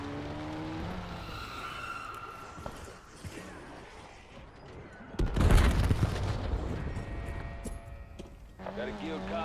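Car driving and skidding in an online video game, a sustained engine and road roar with a louder burst of tire skid and impact noise midway, while someone talks over it.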